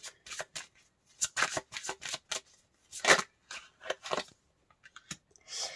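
Tarot cards being shuffled and drawn, a series of close, crisp riffling and snapping bursts separated by short quiet gaps, with no talking.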